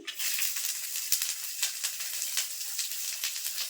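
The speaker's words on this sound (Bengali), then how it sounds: "এবার দিয়ে দেবো গাজর কুচি" Chopped carrots hit hot oil with whole spices such as cumin and bay leaf for a vegetable fried rice, giving a steady bright sizzle with crackling pops, close and fairly quiet, with no talk.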